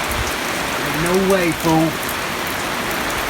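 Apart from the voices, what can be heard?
rain falling outdoors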